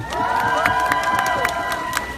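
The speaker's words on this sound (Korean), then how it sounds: "다시 한번 큰 박수 부탁드리겠습니다" An audience at a military base stage show cheers and claps after a family-themed performance, a lively wash of shouting voices with scattered sharp whoops rising above it.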